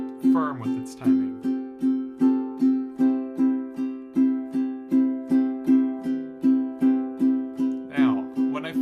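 Ukulele strummed in even, straight eighths without swing, a steady run of bright chord strokes at a firm tempo, with a voice briefly speaking near the start and end.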